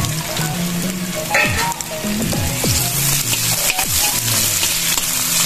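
Onions drop into a hot pan already holding ginger for a Visayan beef paklay and fry with a loud, continuous sizzle, with scraping and clattering stirring strokes throughout and no talking.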